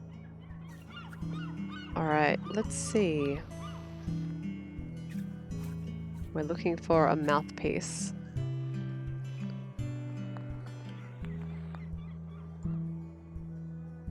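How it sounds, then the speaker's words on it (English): Geese in the video game I Am Dead honk loudly in two harsh, wavering bursts over a steady game music bed, with someone talking briefly in between. "these screaming birds"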